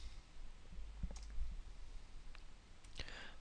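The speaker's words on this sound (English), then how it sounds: "And now we double click inside there." A computer mouse double-clicks during AutoCAD drafting, a couple of sharp, close clicks standing out against a steady low background hum with no talking.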